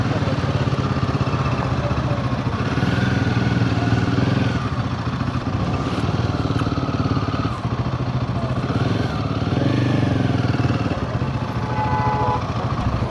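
A motorcycle engine on a Himalayan ride, running steadily with a close, continuous mid-pitched rumble and some clatter, loud and unbroken with minor surges in revs.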